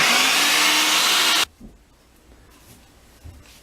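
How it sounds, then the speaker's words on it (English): A blender whirs loudly at full speed through vegan pumpkin custard pie filling, then cuts off abruptly, leaving a quiet room with a few faint clinks and knocks. "got the blender all dirty, why not just give it a whirl?"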